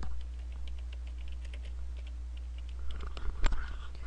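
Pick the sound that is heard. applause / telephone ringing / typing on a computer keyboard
typing on a computer keyboard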